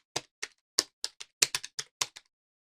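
Keystrokes on a computer keyboard while entering a PowerShell command, about a dozen crisp, quiet clicks in an uneven typing rhythm, close and alone.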